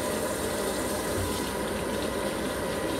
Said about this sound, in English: Sorry for the water noise.